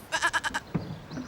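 A goat bleats in a quick, wavering series of five pulses, fairly close and clear, followed by a short softer sound with no talking.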